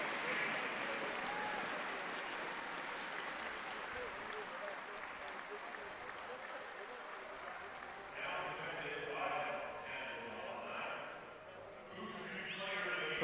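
Crowd applause for both teams at a women's university basketball national championship consolation final, a broad steady clatter filling the arena and swelling slightly near the end, with announcer talk and arena sound running underneath.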